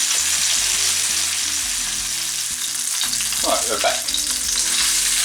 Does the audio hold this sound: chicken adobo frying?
yes